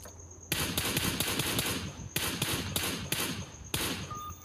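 Rapid bursts of automatic gunfire in the battle-royale game PUBG, loud and close, firing in several dense volleys separated by brief pauses.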